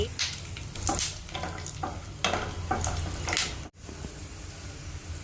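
A handful of peanuts and two dried red chillies fry in a pan, producing close bursts of sizzling and crackling as they are stirred, which briefly cut out before a quieter steady sizzle resumes.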